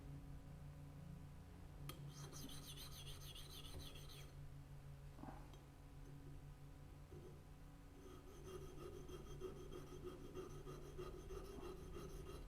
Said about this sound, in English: You notice I'm sharpening the 1/4 and the 1/8 inch as well